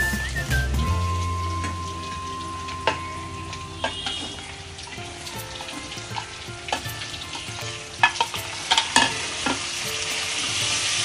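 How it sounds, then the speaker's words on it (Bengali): Steady sizzling of chicken frying in oil with spices for butter chicken, with occasional scraping and clinks of a spoon stirring the pan, no voices. "মাংসটা একটু ভাজা ভাজা হয়ে গেছে, আমার তেল ছেড়ে গেছে।"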